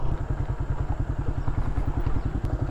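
A Ranger Max Cub-style motorcycle engine thumps close by in a fast, even, steady beat, like an idle or slow run, loud and alone with a light mechanical clatter.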